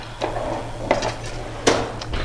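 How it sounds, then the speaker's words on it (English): Kitchen utensils clatter as a spatula is picked out from among them. Three or four sharp metallic clinks and knocks sound close by over a low steady hum, with no talking. "let me grab a spatula"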